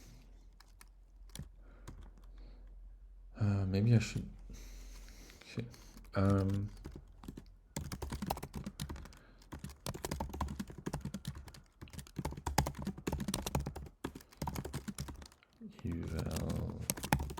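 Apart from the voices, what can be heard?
typing on a computer keyboard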